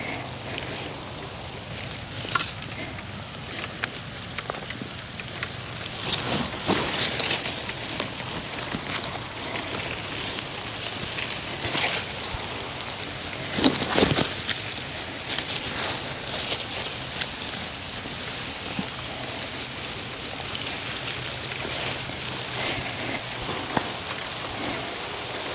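Steady rain falls on a garden during planting work in a long border, a dense continuous patter with occasional louder drips and close hits, no talking.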